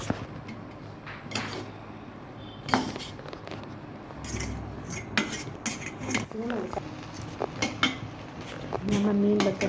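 Rice and soya chunks stirred together in a pot for meal maker biryani, a metal spoon scraping and clanking against the sides in irregular nearby strokes, with a few louder knocks and faint kitchen sounds.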